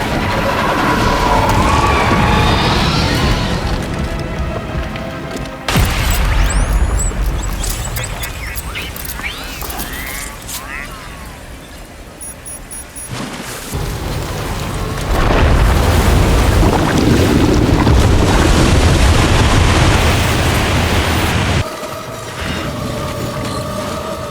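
Grenade explosions in the video game Death Stranding 2 go off as loud booming blasts, with abrupt cuts between heavy bursts, rumbling debris and noisy aftermath across the passage.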